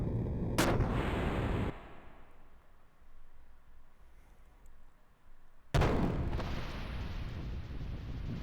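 Ship guns fire in the Xenogears video game, two loud blasts several seconds apart, each followed by a sustained rumbling roar, with a quieter low stretch between them.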